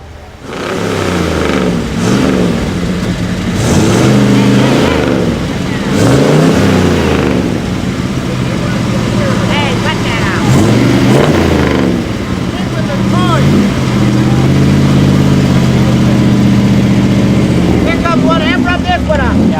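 A classic car's engine revs repeatedly at an outdoor antique car show, loud rising and falling bursts of acceleration, with people talking under and between the revs.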